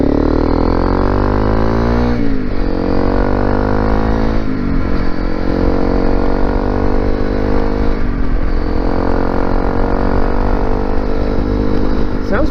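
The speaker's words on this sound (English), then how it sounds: "hear really quickly what it sounds like when it's revving up" A loud Honda CRF250L Rally motorcycle with an aftermarket FMF exhaust revs repeatedly, its engine pitch climbing in several rising sweeps before dropping back, close and aggressive.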